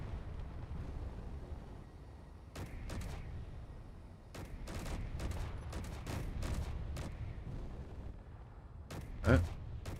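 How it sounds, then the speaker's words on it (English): Ship weapons in Space Engineers fire at a target's power systems, a scattered series of sharp shots over a low engine rumble, one louder blast near the end, with voices talking underneath. "we're shooting at power systems"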